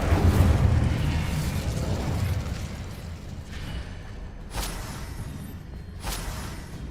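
The Incendio fire spell cast in Hogwarts Legacy bursts with a deep rumbling whoosh of flame, followed by a couple of sharp bright crackling pops as the fire dies down, moderately loud and without talking.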